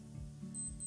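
Two short, high electronic beeps from a Casio G-Shock G-5600 watch alarm ring out over a low background hum, close and clear, the second arriving a moment after the first.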